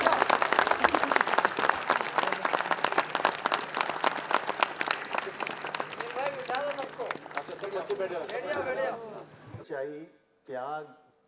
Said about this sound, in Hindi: जोरदार तालियां बजाएं एक बार सभी।